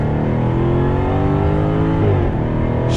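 A 2020 Jaguar F-Type R pulls away on throttle, its engine droning loud and steady close by, with the pitch sweeping through a gear change partway through.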